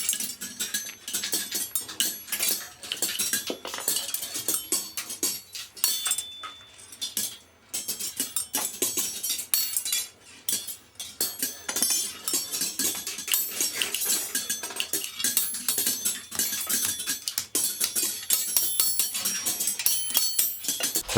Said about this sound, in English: The beadmaker gathers the glass, makes the 4 faces with his spatula, and then sticks upon each the eye